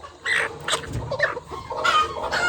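A hen on a farm clucks in several quick, close bursts while pecking at food, with no voices present.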